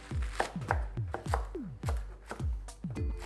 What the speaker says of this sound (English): 200 grams of spinach, I'm gonna roughly chop